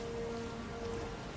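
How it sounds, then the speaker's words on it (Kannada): Steady rain hisses continuously across a surface in the horror video game Resident Evil Requiem, a soft, even patter with no voices. "ಮಳೆ ಬರ್ತುಂಟು, ಇಲ್ಲೂ ಮಳೆ ಬರ್ತುಂಟು ಗೈಸ್."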